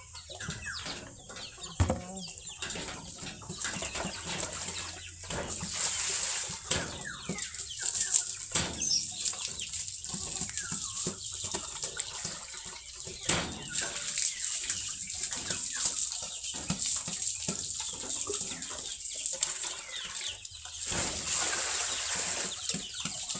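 Hens in a farmyard cluck repeatedly, with bursts of wing flapping throughout, mixed with scattered bird calls at close to moderate distance and no talking.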